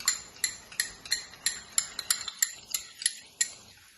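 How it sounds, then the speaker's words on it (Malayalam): A metal spoon clinks briskly against a bowl while stirring salt water, about a dozen bright, regular taps at roughly three per second, close and clear with no voices. "ഞാനൊരു ശകലം വെള്ളം കൂടി ഒഴിച്ച് അതൊന്ന് കലക്കി ഒരു സ്പൂണും കൂടി അതിൻ്റെ അകത്ത് ഇടുക"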